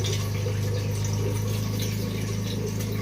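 Water gushing steadily into an air cooler's tank, a continuous, loud pouring rush with a low steady hum underneath and no talking.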